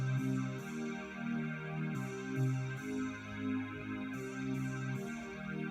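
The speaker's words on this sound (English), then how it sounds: "without the compressor, the synth sounds like this" Synth chords without sidechain compression play at an even level, sustained tones changing pitch every second or so with steady volume and no pumping, with no voices.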